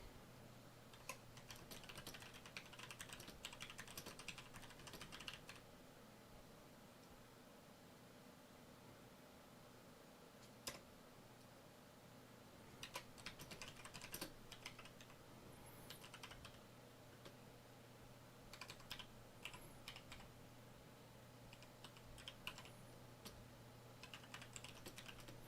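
Intermittent typing on a computer keyboard during a stock watch list livestream, with scattered clusters of quiet clicks between pauses over a steady low hum, close but faint, no talking.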